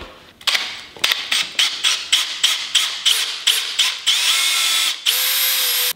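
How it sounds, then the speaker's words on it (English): A power drill with a skinny bit whirs in a quick series of short, loud bursts into the ground, then runs in two longer sustained spins. "You can drill it."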